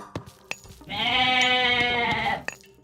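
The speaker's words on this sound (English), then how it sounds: "Goats." A single drawn-out goat bleat from the video game Age of Mythology, loud and close, lasting over a second, with a few faint clicks and taps around it.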